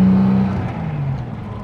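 A 1963 Jaguar E-type coupe engine pulls hard on a farm road, a loud steady drone that dips and rises as the car shifts up through the gears, heard from inside the cabin with no talk.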